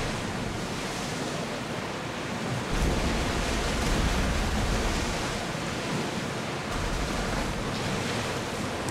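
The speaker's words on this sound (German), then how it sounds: "Wow, hier sind ja aber ordentliche Wellen." Heavy ocean waves in the video game Assassin's Creed Odyssey, a dense, continuous roar of surf and wind that swells louder partway through and stays steady, with no talking over it.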